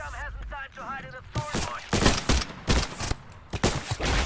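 An AK rifle firing in a video game, a run of loud, sharp shots in irregular bursts, with a voice talking over the first second.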